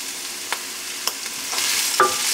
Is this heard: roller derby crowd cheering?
no